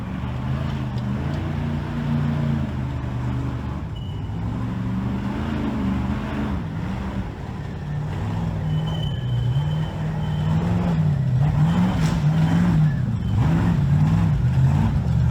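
An Ultra4 4400 Nitto Unlimited class off-road race car runs on a qualifying course at Tear Down in Tennessee, its engine droning steadily with wavering pitch and rising revs, moderately near and without speech.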